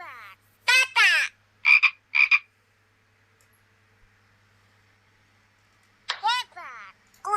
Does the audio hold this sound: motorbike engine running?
no